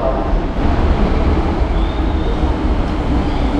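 A train rumbles past nearby in a loud, continuous roar with a faint high squeal from the rails.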